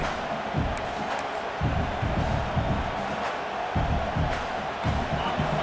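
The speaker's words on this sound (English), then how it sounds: "this crowd coming to life here, trying to help the defense get a stop" A large video game stadium crowd roars steadily, a dense wash of cheering and shouting voices that swells and dips without pause, at a Nebraska football game.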